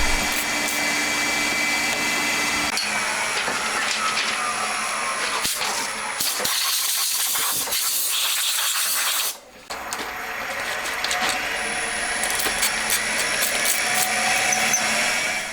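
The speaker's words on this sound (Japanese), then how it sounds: "とにかく図面の座標通りに穴を開けまくっていきます。" A drill bores holes in a Honda Monkey cam chain cover, droning loud and steady for the whole stretch with a gritty, whining tone, pausing briefly once and then spinning up again.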